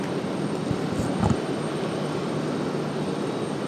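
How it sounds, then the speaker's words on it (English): A Southwest airliner lands on runway 23 left at Raleigh-Durham airport, a steady broad engine roar heard from a distance with a brief thump around the touchdown, with no voices. "Southwest touching down here, 23 left"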